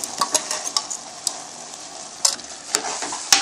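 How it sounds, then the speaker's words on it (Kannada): Soaked rice stirred into hot oil in a pan for chicken biryani, with a steady sizzle of frying and sharp scraping clicks from the spoon against the pan at irregular moments, close and moderately loud. "ಈ ಥರ ಅಕ್ಕಿ ಹಾಕಿದ್ಮೇಲೆ ಈ ಥರ ಎಲ್ಲದನ್ನು ಮಿಕ್ಸ್ ಆಗಿ ಒಂದು 5 ನಿಮಿಷ ಬೇಯಿಸೋಣ"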